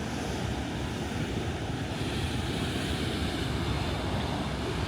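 Pacific Ocean surf below a cliff at Half Moon Bay, California, a steady roar of crashing waves mixed with heavy wind buffeting the microphone, loud and continuous with no talking.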